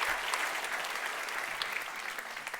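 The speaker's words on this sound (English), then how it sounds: "Go, yes, give yourself a clap, that's the way." Dense, even clapping from an audience at a European Capital of Culture Aarhus 2017 programme presentation, sustained and fairly close throughout.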